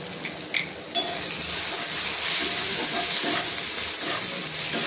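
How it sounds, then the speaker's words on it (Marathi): Chopped tomatoes frying with turmeric and masala for a dried-shrimp dish give off a loud, steady sizzle close by. Small clinks and scrapes of stirring come and go throughout, and no one speaks. "टोमॅटो सुद्धा सॉफ्ट होईपर्यंत परतून घ्यायचे।"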